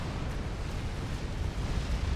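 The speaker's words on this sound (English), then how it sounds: "I do like this like interesting square destruction explosion of some SACUs" Support armored command units explode in the real-time strategy game Supreme Commander during a 4v4 match, a dense, continuous rumbling roar of blasts with no distinct separate bangs.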